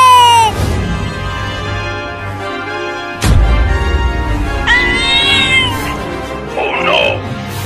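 Cartoon cats meow repeatedly, a long wavering cry at the start followed by a sharp thump and then two more shorter, rising meows near the end, loud and close with no spoken words.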